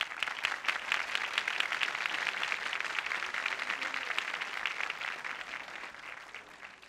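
Sustained applause from a studio audience at a 1995 Turkish TV talk show, dense and even throughout, fading slightly at the end, with no talking over it.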